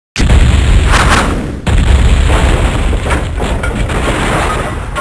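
Bombs dropping and exploding, a very loud, continuous roar of booming blasts that cuts off briefly and then resumes just as heavily, with no speech.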